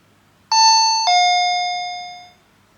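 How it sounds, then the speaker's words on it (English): Two-tone electronic doorbell chime from a SwitchBot Hub 3 smart hub: a clean ding followed by a lower dong, ringing out and fading over about two seconds in a quiet room. "the response time of the doorbell ding is very slow in my case"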